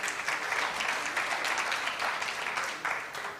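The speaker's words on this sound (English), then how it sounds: "Give them a big round of applause." An audience at a quiz competition breaks into a big round of applause, a continuous dense wash of clapping that holds steady and fills the room.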